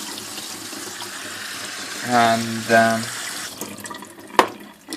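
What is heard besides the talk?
cold tap water running over cooked pasta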